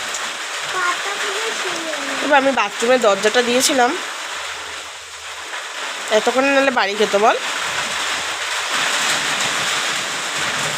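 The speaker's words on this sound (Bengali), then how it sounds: "কি বৃষ্টি শুরু হলো" Heavy rain and a storm with hail pour down in a steady, loud roar that fills the whole stretch, while two people talk over it in short bursts.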